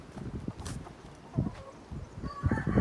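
Hens clucking in an outdoor poultry park, with short soft clucks and low rustling scattered across the clip, close by and moderately loud, with no speech over them.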